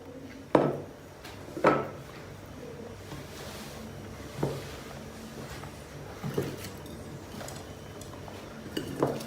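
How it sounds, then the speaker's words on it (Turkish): Onions being spread over eggplants laid in a pan, giving a few soft clinks and knocks of utensil against cookware spaced through a quiet background. "Soğanları şöyle bir birbirinden dağıtarak üzerine bir dökelim."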